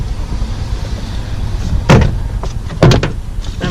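A door panel is pried off a 1999 Toyota Sienna, with two loud, close clunking pops as the clips let go against the panel, about a second apart over a low background hum.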